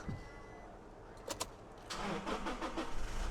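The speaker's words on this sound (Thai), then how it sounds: "ผมขออนุญาตเข้าตัวรถและสตาร์ทรถให้ดูแล้วกันนะครับ" Quiet background, then a couple of brief mechanical clicks before the 2.4-litre engine of a 2019 Toyota Revo Prerunner pickup truck cranks and catches, rumbling into a rough, steady running sound.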